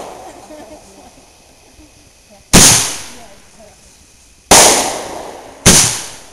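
Three sharp firecracker-like bursts from a Wild Cactus consumer firework, each loud crack trailing off in crackle, spaced irregularly after a quieter stretch of background noise.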